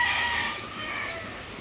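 Chickens in a large coop give off faint clucking and crowing-like calls over a steady outdoor background hiss, distant and continuous for a brief moment.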